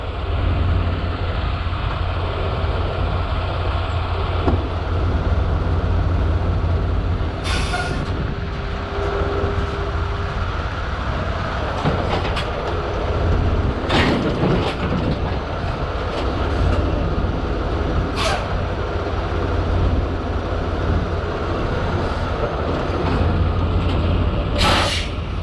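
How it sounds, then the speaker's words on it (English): A truck backs up to a trailer for a tug test, its engine a steady close rumble with several sharp air-brake hisses at intervals over the whole stretch. "Back it up and give us a tug test."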